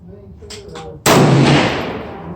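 A single loud rifle shot, fired prone from a bipod with a 7mm Remington Magnum or 6.5 Creedmoor hunting rifle outdoors, cracks sharply after faint murmuring and then decays in a long rolling echo.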